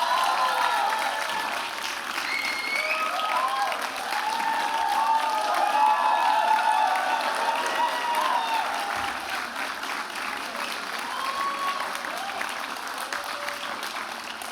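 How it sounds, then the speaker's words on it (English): Sustained applause from a convocation audience honouring graduates, faculty and family, a broad steady wash of clapping with some cheering mixed in, holding loud and even for the whole stretch. "could you give them a round of applause,"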